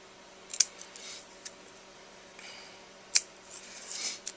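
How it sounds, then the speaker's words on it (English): Scissors snip through paper for a handmade Halloween card, two sharp distinct cuts with small rustles and handling noises between them, close and quiet with no talk. "I'm going to cut up the middle, and then I'm going to just flag the ends on each side."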